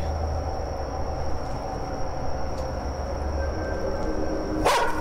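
A dog barks in the Chilla's Art horror game The Karaoke under a low, constant rumbling ambience. The barks are faint and scattered, with a sharper burst near the end.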